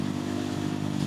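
Motorcycle engine held under hard throttle on a fast road ride, a steady loud droning roar close to the rider without pauses.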